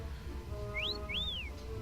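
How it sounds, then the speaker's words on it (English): Two clear rising-and-falling whistles sound in the video game Yooka-Laylee, set in Tribalstack Tropics. They ring out fairly near over a faint hum of background noise. "with the whistling, I didn't see anything. Like, you can hear it super"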